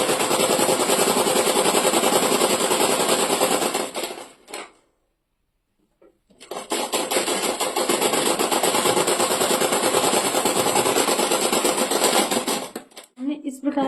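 A sewing machine stitching pajama fabric whirs loudly and continuously, breaks off into a brief silence, then starts again for another long, steady run before stopping abruptly.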